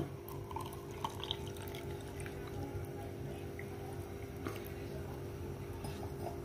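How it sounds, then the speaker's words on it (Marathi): Cold water is poured into a glass over a spoonful of raw mango panha concentrate, a faint steady trickle and light splashing heard quietly and close. "त्याच्यामध्ये पाणी टाकणार आहोत थंड"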